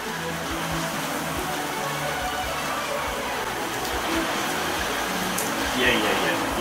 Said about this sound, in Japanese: すごい嵐になってきましたが